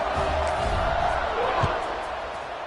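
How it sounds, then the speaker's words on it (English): Stadium crowd in College Football 25 roaring steadily during a kickoff, a dense continuous wash of cheering that stays loud throughout, tapering slightly toward the end. "this crowd is feeling themselves after that last drive"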